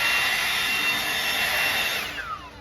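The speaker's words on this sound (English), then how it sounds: "Clean the edges with a blower." A blower clearing the edges of a backyard ice rink gives a loud, steady, high-pitched whine close by, then its pitch slides down as it winds off near the end.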